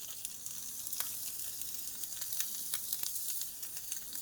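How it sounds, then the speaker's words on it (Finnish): Ground beef frying in clumps in a hot pan, a steady close sizzle with scattered sharp pops and crackles, no talking. "Jos sä paistat sun jauhelihaa tälleen klönttäin"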